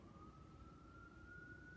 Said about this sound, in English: Somebody called the ambulance.